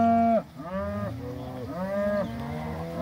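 Cattle in a mob bawling for their separated calves, long loud overlapping moos from several cows close by, one after another with no pause.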